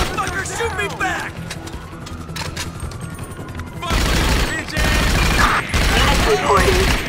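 Gunshots ring out in a video game as a rapid fusillade of close, loud cracks and booms, with voices talking over the shooting.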